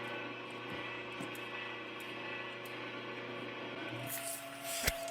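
Plane in flight heard with an arm stuck out of the window, giving a faint, steady droning hum of engine and wind, with a brief buffeting thump near the end and no talk.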